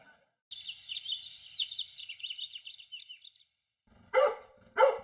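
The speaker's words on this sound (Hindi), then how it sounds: "सारी एनर्जी आज ही भौंकने में लगा देगा" After a stretch of high chirping birdsong, a dog lets out two loud, close barks near the end, about half a second apart.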